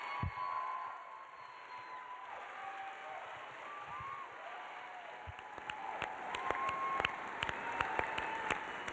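Awards show audience applauding, scattered claps building into a denser round of sharp hand claps toward the end, with faint crowd murmur beneath.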